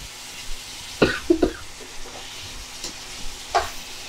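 Chicken liver frying in a pan with masala, a low steady sizzle under a few louder scraping stirs and a short cough-like burst, close by, with no voices.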